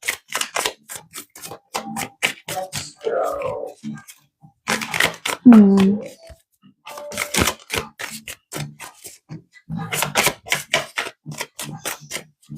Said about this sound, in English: like these cards usually shuffle so nicely, but they're being chaotic today.